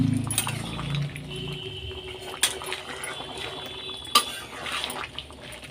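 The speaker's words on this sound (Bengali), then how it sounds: "একটু নেড়ে নিই।" A utensil stirs boiled potatoes and eggs in a pan, giving scattered clinks and scrapes against the metal, with a few sharper knocks over a soft background sizzle.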